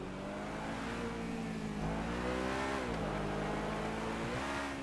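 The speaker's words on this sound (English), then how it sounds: "It's got a great engine sound." A car engine in GTA Online revs and holds a strong, continuous drone with rising and falling pitch as it accelerates, steady and moderately loud without speech.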